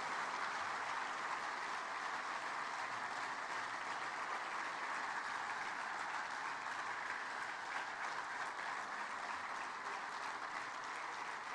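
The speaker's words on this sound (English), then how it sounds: "a round of applause, please, for the arrival of His Excellency, President Paul Kagame" A large audience at the Commonwealth Business Forum opening ceremony applauds the arrival of President Paul Kagame, a dense, even wash of clapping from many hands that carries on steadily without pause.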